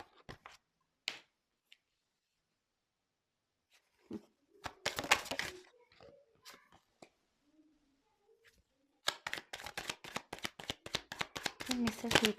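Tarot cards are riffled and shuffled in bursts of quick flicking snaps, with a short burst early, a longer spell midway and a dense closing run, separated by near silence and soft handling noises.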